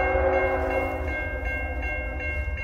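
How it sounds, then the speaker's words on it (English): Eastbound CN freight train passing in Vicksburg, Michigan: a loud, steady horn blast held over the low rumble of rolling wagons, close by, with no talking. "We have an eastbound train."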